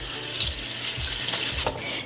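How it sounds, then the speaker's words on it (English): Running water splashes in a kitchen sink as vegetables soaked in Castile soap are rinsed off. The flow is quiet and steady, with small clinks and bursts of splashing and no talking. "we're just gonna rinse this out because we don't want any of the soap left on our vegetables"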